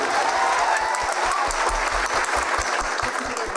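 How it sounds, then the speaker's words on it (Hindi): Enthusiastic crowd applause at a Hindi political speech, loud and continuous, with a few voices cheering faintly within the clapping and a rhythmic low thumping underneath. "एक बार जसवंत सिंह जी के लिए जोरदार तालियां बजाइए।"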